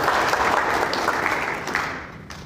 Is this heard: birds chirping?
no